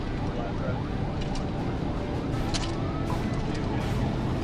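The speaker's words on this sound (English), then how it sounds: "a quiet afternoon in the countryside is shattered by sirens and screeching tires" Police sirens wail during a high-speed pursuit on a countryside road, mixed with dense road and engine noise, steady and loud throughout.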